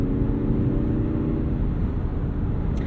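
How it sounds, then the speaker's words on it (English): A 2022 Mazda MX-30 EV pipes a synthetic propulsion sound through its cabin speakers: a steady, layered low hum with faint tonal overtones, continuous and close, with no talking over it. "Mazda also pipes in noise through the speakers"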